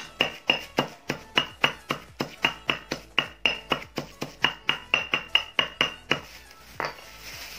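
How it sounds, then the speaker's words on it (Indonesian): Crushed ingredients are pounded finer in a hard container, a quick, steady run of sharp clinking taps, close and fairly loud, slowing and thinning out toward the end, with no speech. "Oke, sudah remuk, tapi akan kita bejek lagi supaya lebih halus"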